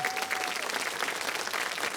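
Studio audience applauding on a Ukrainian holiday evening talk show, a steady dense clapping that carries on evenly for the whole stretch at moderate loudness.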